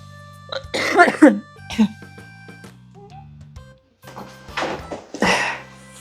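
A person coughs a few times in short rough bursts, close by, with quiet gaps between them and faint background noises on a rainy day in the Korean countryside.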